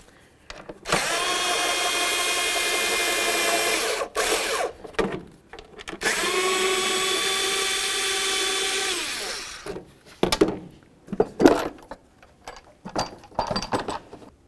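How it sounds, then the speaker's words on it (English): A power driver spins out 8mm-headed screws on a 2000-2005 Buick LeSabre during a transmission mount job, giving two sustained whirring runs of a few seconds each, followed by clanks and handling noises. "It's just a couple 8mm headed screws,"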